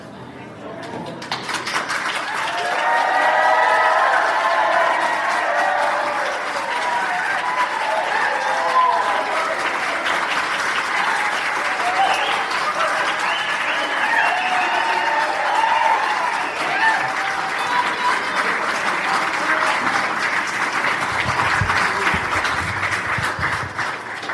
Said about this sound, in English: The roar of the crowd, playing along for full effect, was outstanding.